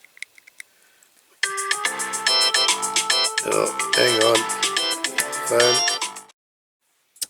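A telephone ringtone plays a loud, repeating electronic melody for several seconds during a toy truck restoration, with a person speaking briefly over it before it cuts off.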